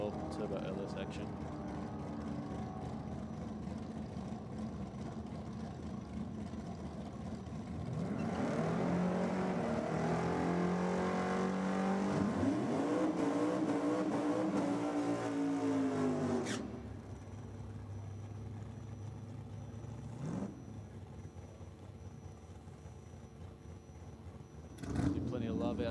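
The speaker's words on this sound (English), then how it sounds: "Jim Bruce in that HQ Utes, pretty cool combination as well. Turbo LS action" A turbocharged LS-powered HQ Ute drag car at a no-prep drag racing event drones steadily from a distance, then revs harder and louder before its engine note drops and fades. A commentator talks over the engine throughout.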